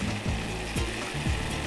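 Demi-glace sauce boils hard in a pan as its alcohol cooks off, giving a steady close bubbling hiss broken by a few low scraping sweeps.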